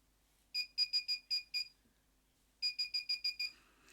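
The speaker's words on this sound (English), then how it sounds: "It's a metal detector. I can find all the pins that I've dropped" A small handheld metal detector, switched on, gives two quick runs of bright, evenly spaced electronic beeps, about six in each run, with a short quiet gap between them.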